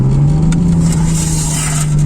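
A Datsun 280Z engine heard from outside the car, a loud, close, steady droning hum with a strong low growl that holds throughout.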